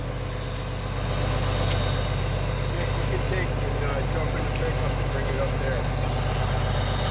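A John Deere 690B excavator's diesel engine runs at a steady idle on a cold day outdoors, a loud, close, continuous low rumble that holds even throughout.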